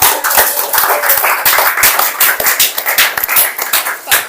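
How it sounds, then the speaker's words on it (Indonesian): Classroom of students clapping for a group's presentation, a dense burst of quick, irregular hand claps lasting throughout, close and fairly loud with no talking. "kita kasih tepuk tangan atas presentasinya"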